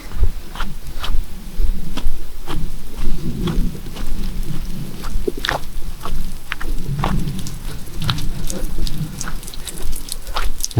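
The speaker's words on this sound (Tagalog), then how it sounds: "Nabutan tayo guys ng ulan." Rain pours steadily at a resort in Mindoro, a dense, constant hiss with scattered sharp drips and patters close by, with no talking.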